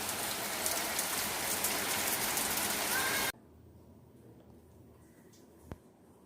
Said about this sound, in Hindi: देखिए इस तरीके के बारिश है